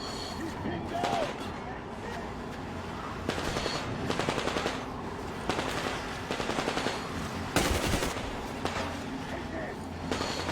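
Sustained machine gun fire from a firefight in the video game Metro Exodus, loud bursts repeating across the whole stretch with shouting voices mixed in over the gunfire.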